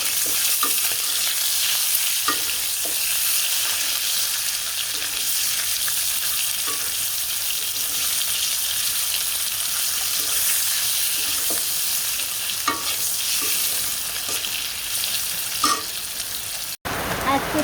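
Salted vegetables fry in a pan with a continuous loud sizzle and crackle, punctuated by occasional stirring clicks and scrapes; steady throughout before an abrupt brief cut near the end.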